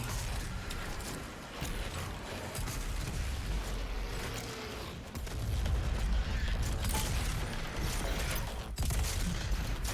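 The BFG 10,000 fires in the video game Doom Eternal amid dense, loud, continuous game noise. Deep rumbling booms and mechanical clatter fill the mix from start to finish, with no clear separate blasts.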